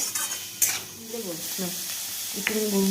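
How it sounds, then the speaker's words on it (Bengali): Shredded cabbage sizzles and crackles as it fries in a pan for street-style egg rolls, with a few scraping stirs. A voice talks faintly underneath. "বাঁধাকপি দিলাম এটা দিয়ে একটু ভাজা ভাজা করবো"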